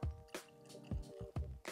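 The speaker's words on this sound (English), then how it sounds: "And we pour." Redbreast PX Iberian Edition Irish whiskey pours from the bottle into a glass in quiet, irregular glugs and splashes, close and soft.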